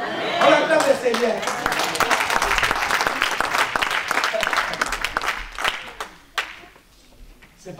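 A church congregation claps and applauds in praise during a sermon, a lively burst of many hands with a few cheers that fades into scattered claps near the end.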